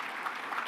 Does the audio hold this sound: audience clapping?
yes